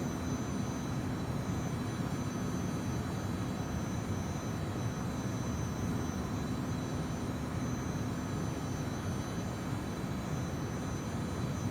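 Steady broadband jet roar from the Citation CJ4's engines in a flight simulator, throttled up for climb after takeoff, continuous and even with no voices over it.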